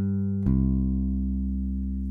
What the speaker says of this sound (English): I have both pickups all turned up all the way